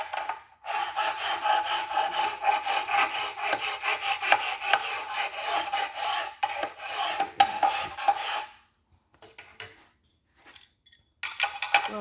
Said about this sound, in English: I'll hand sand it a little bit up here.